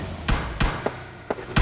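Gunshots in the mobile battle-royale game PUBG Mobile Lite, four or five sharp cracks spaced roughly a third of a second apart, loud and close with no talking.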